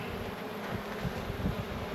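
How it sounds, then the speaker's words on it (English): Honey bees buzz steadily in a freshly made hive split, a soft continuous drone heard close up and fairly faint, with no talking. "these are her bees"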